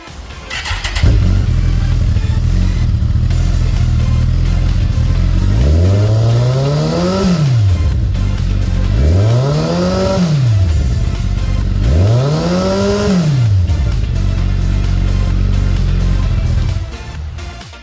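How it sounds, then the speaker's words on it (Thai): A 2017 Kawasaki Ninja ZX-14R Ohlins Edition with a big four-cylinder engine and Sugichi twin exhaust idles, then revs hard three times in even succession. Each rev climbs and falls back to a steady idle, loud and close, with no talking. "เดี๋ยวลองมาฟังเสียงท่อคู่สุกิจิกันดูนะครับ"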